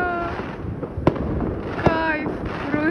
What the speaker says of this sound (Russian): салют словили